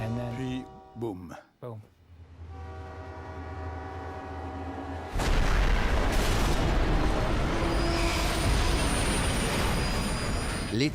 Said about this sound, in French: Les trains se percutent comme 2 béliers enragés.